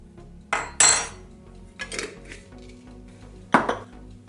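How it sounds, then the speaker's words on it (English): A metal spoon knocks and scrapes against a bowl three or four times while flour is spooned in for a cheesecake, with sharp close clinks separated by quiet pauses. "You have to put the flour, just 3 spoons."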